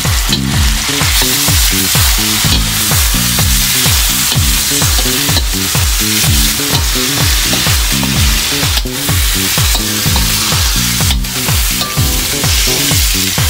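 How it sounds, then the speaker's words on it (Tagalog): Chicken liver frying in a pan for chop suey sizzles loudly and steadily while a spoon stirs it in regular scraping strokes about every half second, close up and with no talk. "Lagay na po natin yung atay. Tapos haluin."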